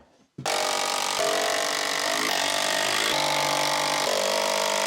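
A power drill whirs into action after a short quiet moment, driving 2-inch screws into wooden wall-mounted workbench supports with a continuous buzzing whine that shifts pitch as each screw bites and tightens.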